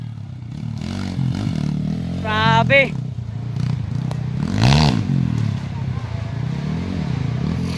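Trail motorcycles in an iron man category mototrail race at Barangay 23, Gingoog City, engines droning and revving steadily throughout with clattering, while an announcer and voices talk over the noise.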